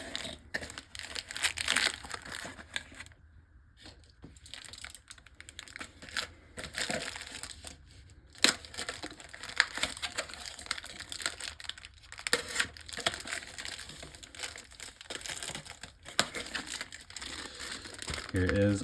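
Beyblade X Dranzer S packaging is opened by hand, with crinkling plastic and tearing noises, close and soft, while a person talks over much of it.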